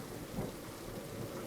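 Rain and thunderstorm ambience effect, a continuous broad hiss of rain with a soft low rumble swelling briefly, faint and steady with no voices over it.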